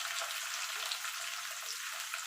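Chopped tomato hits frying chicken in a pan for a Bengali chicken kosha, giving a bright, steady sizzle that hisses evenly throughout without any voices.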